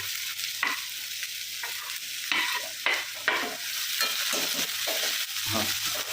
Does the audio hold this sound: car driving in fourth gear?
no